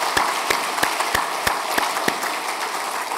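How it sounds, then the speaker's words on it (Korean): A church congregation at a Sunday service claps to welcome a deacon, a close wash of applause punctuated by evenly spaced sharp claps, about three per second. "큰 박수로 환영하시겠습니다"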